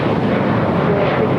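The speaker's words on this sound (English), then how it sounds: "I also have China Airlines Cargo, Flight 5382, heading to Miami, Florida. 777 freighter lighting up." A China Airlines Cargo Boeing 777 freighter takes off at LAX, its engines a loud, broad, continuous roar that holds steady and close for the whole moment, with no talking.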